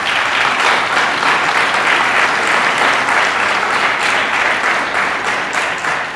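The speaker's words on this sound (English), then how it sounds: "So give them a round of applause." A corporate audience gives a round of applause at a December charity event, a full, steady roar of many hands clapping together, sustained evenly before easing off slightly at the very end.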